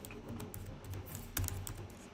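Computer keyboard keys clack in a steady run while code is typed for a React blog application, close and fairly quiet, with one louder cluster of strokes midway and no talk.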